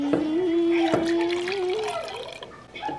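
Liquid poured over marshmallows makes a short, close trickling and dripping stream, with a faint voice briefly in the background.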